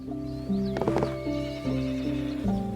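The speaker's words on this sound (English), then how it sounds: "think I heard a horse" A horse neighs and whinnies in a long, loud, wavering call close by, with hoof clip-clop mixed in, near fields being watered.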